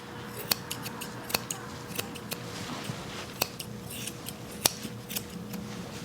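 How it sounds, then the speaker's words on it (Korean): Crisp, close snips of curved scissors cutting hair, a series of sharp clicks at irregular intervals over a soft background hiss. "이때 커브 가위를 사용하면 좀 더 편리하시겠죠?"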